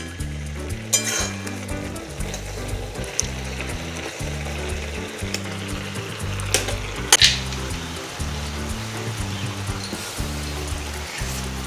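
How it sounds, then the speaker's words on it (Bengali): Carrot halwa cooking with milk over high heat, a constant bubbling sizzle broken by a few sharp scraping clicks as a spoon stirs the pan, close and moderately loud. "এবারে হাই হিটে দুধটাকে মেরে নিচ্ছি।"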